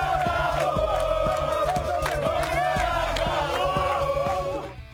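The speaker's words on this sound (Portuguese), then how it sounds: "Torcida do Atlético em Montevidéu" Atlético supporters crowd together in Montevideo, Uruguay, a loud, dense roar of cheering and chanting voices that runs continuously for the whole stretch with rising whoops, fading slightly at the end.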